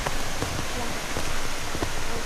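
Pahangog Twin Falls in Dimiao, Bohol pours as a dense, steady roar of rushing water, loud and close, with faint voices mixed in.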